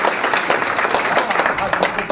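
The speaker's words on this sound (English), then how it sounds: "Let's give him a round of applause for the great job he's doing." A crowd at a political event in New Roads with Governor Jindal breaks into steady applause, dense and close, with voices mixed in under the clapping.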